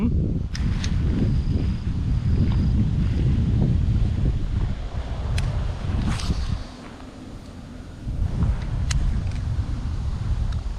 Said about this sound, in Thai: ลมแรงมากนะพัดสายโค้งเลย